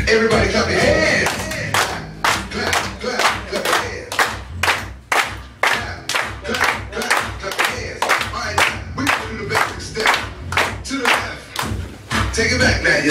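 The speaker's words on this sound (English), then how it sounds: "Everybody clap your hands." A party crowd at a scout reservation staff party claps hands in a steady rhythmic beat, loud and close, over dance music with voices calling out.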